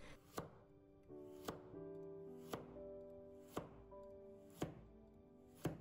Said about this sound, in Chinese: 再准备半个胡萝卜，先切成厚片